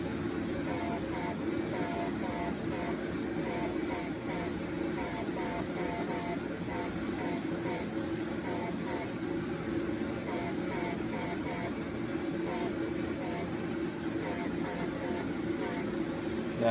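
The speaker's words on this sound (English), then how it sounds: "I love this double action sprayer." Double-action airbrush spraying paint onto an action figure during a repaint, heard as a long series of short, sharp hissing puffs over a steady background hum, with no talking.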